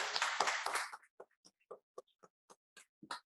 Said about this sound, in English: Can we all put our hands together for a round of applause for the speakers?